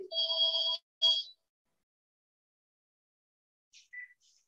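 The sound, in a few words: telephone ringing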